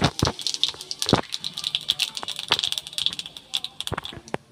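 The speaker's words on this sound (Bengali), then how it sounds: "আর এই তেলের মধ্যে আমি 5 ফোড়ন দিয়ে দিই।" Panch phoron, a whole-spice tempering, hits hot oil and crackles in a burst of sharp, irregular pops and spits, close up, over a faint sizzle.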